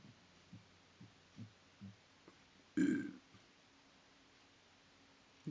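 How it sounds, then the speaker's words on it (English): A single short, low burp stands out partway through a quiet indoor stretch, preceded by soft rhythmic thumps. "Did you burp?"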